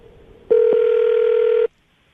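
A telephone dial tone starts abruptly as a call is placed, a steady, loud, close electronic tone lasting just over a second before cutting off to silence.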